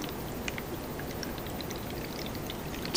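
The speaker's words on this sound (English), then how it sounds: "Pouring the water in." Water is poured steadily into a container of soil in a simple erosion experiment, a soft continuous splashing wash that stays even throughout, with a small splash near the end.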